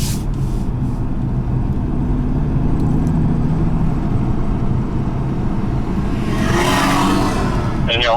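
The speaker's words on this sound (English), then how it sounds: "then hard on the brakes at that moment, right now" Car braking hard at a line of cones, steady road and engine rumble followed by a brief rising squeal of tires near the end, with faint voices in the background.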